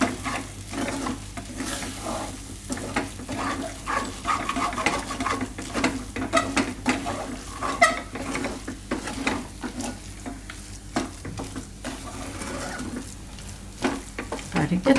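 Dal mixture for a Gujarati moong dal paratha filling is stirred in a pan, giving a steady scraping, shuffling texture over a soft sizzle that runs the whole time at moderate loudness.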